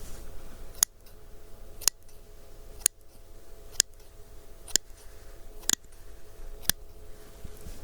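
Sharp, crisp snips of plastic scissors, about seven evenly spaced cuts over faint background hiss, each a short clicky snap with no voices.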